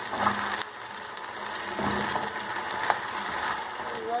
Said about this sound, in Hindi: हमें इसे उस वक्त तक भूनना है जब तक हमारे अदरक और लहसुन में से अच्छी सी खुशबू ना आने लगे।